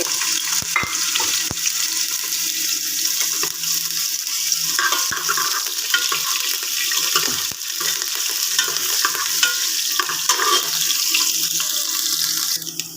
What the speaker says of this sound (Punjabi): ਤੇਲ ਹੋ ਗਿਆ ਗਰਮ ਤੇ ਆਪਾਂ ਪਾਵਾਂਗੇ ਪਹਿਲਾਂ ਅਦਰਕ